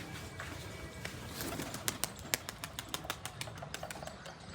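Pigeons in a rooftop pigeon house, with soft cooing and a run of sharp, rhythmic wing claps and flutters growing denser toward the end, over a steady outdoor background.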